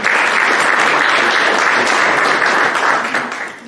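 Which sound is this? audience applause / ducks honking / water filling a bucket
audience applause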